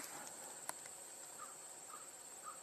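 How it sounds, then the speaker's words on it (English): An American crow caws three times, faint and distant, spaced about half a second apart over a steady high insect drone. "Hearing an American crow."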